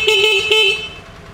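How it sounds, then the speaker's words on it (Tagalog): A Sinamoto motorcycle horn honks in two close, loud, bright toots within about a second, then fades, with no talk. "Busina na to."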